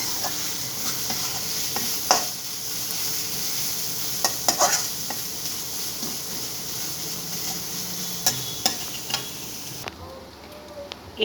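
Onion fries in a pan with a steady sizzle for several seconds, broken by sharp clinks and scrapes of a utensil stirring, until the sound drops off near the end.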